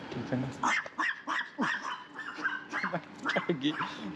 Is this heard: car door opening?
no